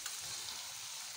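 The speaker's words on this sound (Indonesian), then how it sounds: "Kemudian kita goreng kacangnya." Peanuts frying in hot oil in a home kitchen, a steady soft hiss and crackle of sizzling throughout, fairly faint, with no voices.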